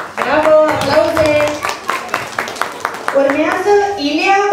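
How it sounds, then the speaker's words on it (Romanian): Young children's group at a kindergarten gathering claps in short, uneven bursts while an adult and kids talk over it, the handclaps sharp and close but loosely timed. "Bravo, aplauze!"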